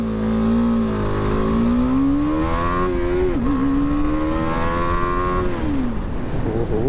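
BMW 310R motorcycle accelerating hard in first gear, a loud close engine whose pitch climbs steadily, dips briefly, climbs again and then falls away as the throttle is released.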